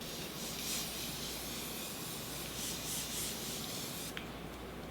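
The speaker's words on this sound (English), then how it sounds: "let's just go ahead and spray the face" A continuous face mist spray from a scented makeup setting product, a steady close hiss lasting several seconds before cutting off, with no talk over it.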